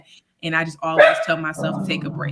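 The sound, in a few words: dog barking in the background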